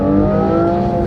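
A 2025 Aston Martin Vanquish's V12 engine hums in a steady, smooth drone with layered harmonic tones, holding at a constant pitch throughout the short burst.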